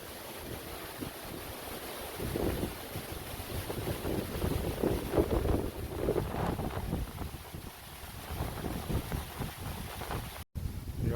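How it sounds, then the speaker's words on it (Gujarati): Strong wind gusts buffet the microphone on a lake shore in Canada's John E. Pearce Provincial Park, a loud, continuous roar swelling and easing over about eleven seconds, with waves faintly underneath and no talking. "આજે પવન બી વધારે છે."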